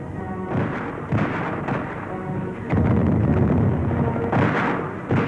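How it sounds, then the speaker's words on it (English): Cannon artillery fire in a wartime battle scene, heavy booming blasts rumbling loud and close in several bursts with sustained low roar between them, no voices. "Cannons thunder"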